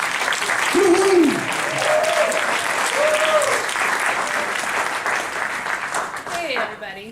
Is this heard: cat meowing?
no